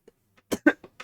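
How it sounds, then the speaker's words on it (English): A few short, sharp coughs from one person close to the microphone, clustered in a quick burst after a brief pause, with near silence between them. "Sorry, I'm coughing."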